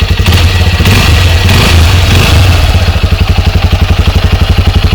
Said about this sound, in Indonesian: Nah ini kondisi suara dari knalpot standar, lumayan ngebas sih.